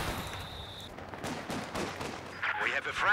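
Gunfire in the video game Company of Heroes 2 during a 4v4 battle: a few sharp cracking shots over a busy rumble of game noise and faint background sounds.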